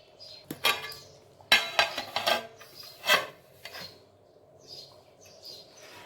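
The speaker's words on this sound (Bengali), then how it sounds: "এখন আমি সব কিছুকে খুব ভালো মতন মিশিয়ে নেব আর আঁচটাকে কমিয়ে কড়াইটাকে ঢাকা দিয়ে রেখে দেব" A spoon scraping and stirring plain pulao in a metal kadai, several rasping bursts of varying length, then quieter clinks, with faint bird chirps in the background.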